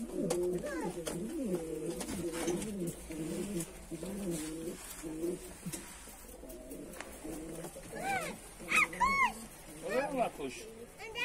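Pigeons coo in repeated soft, throaty phrases, with a few sharper bird calls later on, heard close and under a person's talk.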